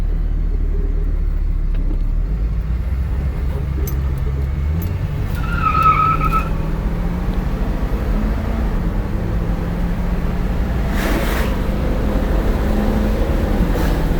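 A 1970 Chevrolet Camaro SS 350 cruising along with open windows, steady engine rumble and rushing wind and road noise that stays loud throughout.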